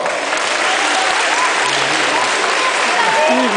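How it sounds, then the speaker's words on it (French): Sustained, loud applause from an audience at a Belgian event welcoming Minister Sabine Laruelle, dense steady clapping throughout with a few voices faintly audible underneath. "On applaudit très fort."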